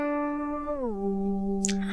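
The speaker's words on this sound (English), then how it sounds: "So if we could scale the pitch up of the sound that this virtual string might be making" A sustained synthetic tone stands in for a virtual plucked string, holding a steady pitch, then gliding smoothly downward to settle on a lower note, with a brief faint click near the end.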